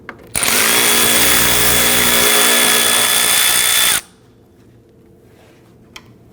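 A power drill spinning out T25 Torx screws from the bumper cover of a Volvo XC60, one loud continuous whine for about four seconds, then stopping abruptly into a quiet garage with a single faint click.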